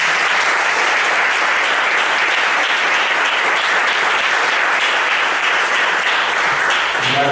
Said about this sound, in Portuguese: Vamos dar um aplauso para o Senhor Jesus.